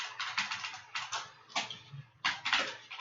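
Rapid keystrokes clatter on a computer keyboard, coming in uneven bursts with brief pauses between them, close and fairly quiet, with no voices.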